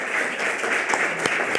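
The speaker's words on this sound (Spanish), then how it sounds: "Un gran aplauso." Audience applause at an awards ceremony for paleontology in Chile, a dense steady patter of many hands clapping for under two seconds with no voices over it.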